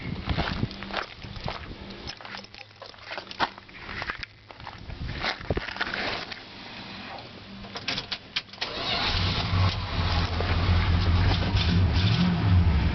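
A 1960 Dodge Dart Pioneer engine cranks and catches, then settles into a steady, rumbling idle that grows louder and fuller toward the end, heard close with some handling noise before it starts.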